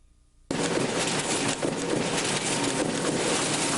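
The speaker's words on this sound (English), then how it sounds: "That's the sound of our presses running." Commercial printing presses running in a print shop: a dense, steady mechanical roar that kicks in abruptly after a brief quiet moment and holds loud and even to the end.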